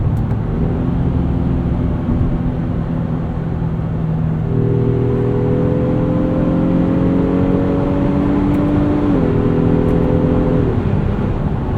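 A 2023 Honda Pilot Trailsport engine hums loudly from inside the cabin, its pitch climbing steadily and then dropping as the transmission shifts up through close-ratio gears under a constant road rumble.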